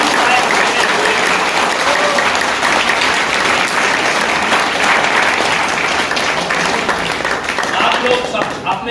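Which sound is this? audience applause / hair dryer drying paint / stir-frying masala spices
audience applause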